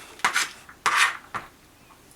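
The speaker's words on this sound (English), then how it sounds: "just take all this corn and just kind of toss it right onto the pan here" Fresh corn kernels slide off a flexible cutting board into a pan in three quick clattering bursts, close and crisp, with brief quiet between them.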